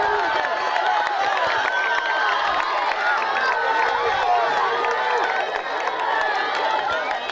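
Crowd cheering and shouting at a high school regional track meet during a relay's third leg, a steady roar of voices with scattered claps, under an announcer's commentary.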